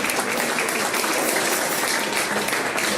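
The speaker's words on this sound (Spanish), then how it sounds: "Fuerte aplauso al Señor, mi hermano." Church congregation applauding during a Sunday service, a dense, continuous wash of many hands clapping loudly and evenly throughout, with no break and little talk.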